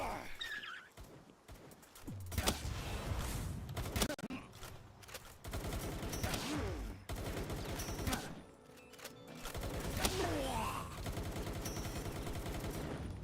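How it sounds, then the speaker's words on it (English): Bursts of gunfire from the video game Palworld, rapid volleys and single shots crackling over a dense, busy soundtrack with explosions and effects throughout. "I hear gunshots."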